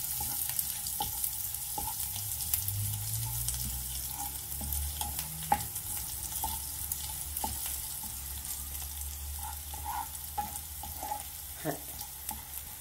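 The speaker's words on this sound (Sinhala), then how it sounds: "මේ විදිහට ඒ ටික බැද ගන්නවා." Ingredients fry in hot oil for a spicy Sri Lankan chilli bite, a steady soft sizzle with occasional pops and light stirring taps, quiet and continuous with no voices.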